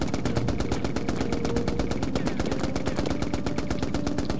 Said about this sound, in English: I'm taking control of the machine gun